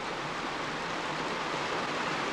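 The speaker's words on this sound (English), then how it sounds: "The water just meanders down." Steady rushing of falling water at Horseshoe Falls in Yosemite, a broad even roar with no breaks, fairly close and constant throughout.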